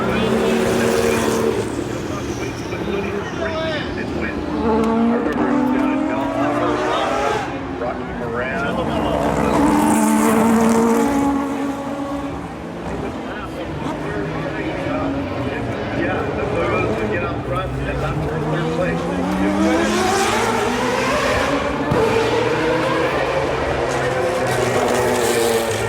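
Historic Camel GTP race cars racing side by side along the shoreline front straightaway at the Long Beach Grand Prix, loud engines rising and falling in pitch as cars sweep past, with a person talking over the noise.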